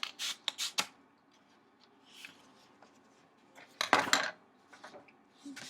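Scissors snip through a sheet of brown paper being cut in half for a craft, giving a few close, crisp cuts in bursts with quiet pauses between them.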